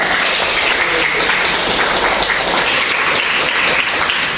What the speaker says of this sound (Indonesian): Tepuk tangan buat Mas Putra